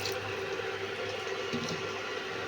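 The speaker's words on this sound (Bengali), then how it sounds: "তাই আরেকটুখানি জল দিয়ে দেব।" Water poured into a pot of mutton curry cooking on a high flame: a steady, close watery rush and bubbling that runs continuously throughout, with no talk.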